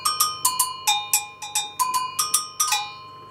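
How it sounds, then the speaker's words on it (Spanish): A Brazilian agogô iron bell played in a quick rhythmic pattern, about a dozen bright metallic strikes alternating between its two pitches, each ringing briefly, close and alone without voices. "Otros metales son como el iron bell, un agogó brasileño"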